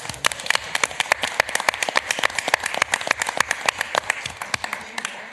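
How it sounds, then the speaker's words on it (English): Scattered, crisp clapping from a small group, steady and irregular throughout, fairly close with no talking. "I think we should give her a round of applause"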